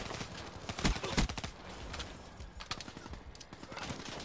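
Bursts of gunfire from the Call of Duty: Black Ops 3 video game, clustered near the start and scattered across the rest, fairly quiet and dense.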